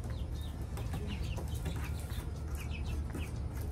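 Young chickens in a brooder give soft, repeated clucks and short peeping chirps, scattered close by over a steady low rumbling background, with no one talking.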